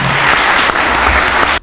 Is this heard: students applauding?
yes